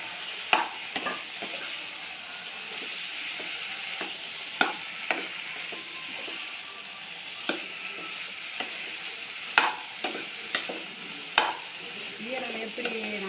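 Soy chunk vegetarian liver frying in cooked masala and separated oil, stirred in the pan: a constant sizzling hiss broken by repeated spoon scrapes and knocks against the pan, close and steady with no voices.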